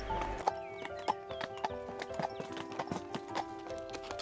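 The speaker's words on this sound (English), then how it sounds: "we explored the surrounding hills on horseback" Horse hooves clip-clopping in a steady walking rhythm during a horseback ride through mountainous hill country, close and moderately loud, with faint jingling tack and a soft neigh-like tone in the background.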